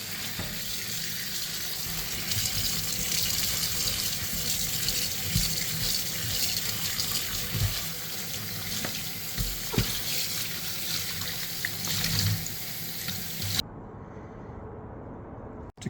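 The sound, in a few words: washing a machine filter under running water in a laundry sink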